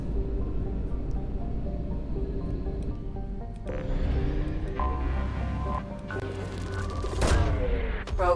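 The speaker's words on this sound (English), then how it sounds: "Probe launched." A probe launches in the video game Mass Effect 2, with a loud burst of launch noise near the end over a steady bed of game music and ambience.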